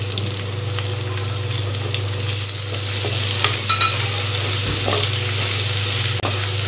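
Onion frying in a pan for drumstick leaf soup, a loud steady sizzle over a constant low hum, with occasional stirring scrapes and a sharp clink near the end, no talking.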